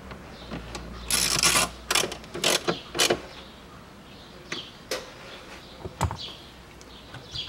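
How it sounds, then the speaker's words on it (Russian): A self-tapping screw being driven into the trunk side trim of a 2014 Range Rover Sport 3.0, heard as a few loud bursts of close tool noise with scattered clicks and quiet gaps between them. "Закручиваем вот этот саморез."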